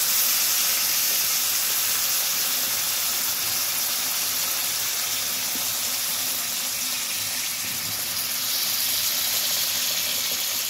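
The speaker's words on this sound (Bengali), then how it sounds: "এবার আমি জল দিয়ে দিচ্ছি। জলটা আমার গরম জল।" Hot water poured into a pot of potatoes and vegetable stalks for a rohu fish curry makes a steady, loud, hissing gush that runs unbroken throughout, with no voices.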